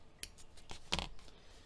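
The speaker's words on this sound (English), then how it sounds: "So just like this, pull it through and trim off your extra." Scissors trimming excess crochet yarn on a granny bucket hat, several quick close snips in a short irregular series, quiet and alone.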